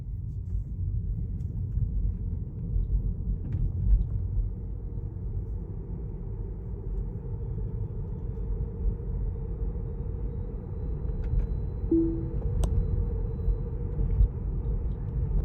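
A Tesla Model 3 driving and coming to a stop, heard from inside as a low steady road rumble and faint hum that carries on evenly, with a brief tonal chime partway through.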